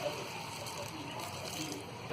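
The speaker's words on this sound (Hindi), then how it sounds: "यहाँ आधा कप से थोड़ा सा कम डालेंगे हम पानी।" Water poured into a pan of fried potatoes, peas and cauliflower for aloo gobi, a soft continuous sloshing and splashing pour heard close up for a couple of seconds.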